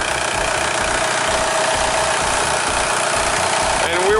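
A VW Beetle engine runs steadily up close with a continuous loud drone and low rumble, and near the end the A/C compressor clutches in, shifting the tone briefly.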